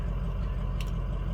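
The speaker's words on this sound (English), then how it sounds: "Trucks are sitting here running." A 2006 Ford F250 pickup sits idling, its engine giving a steady low rumble with a brief hiss partway through.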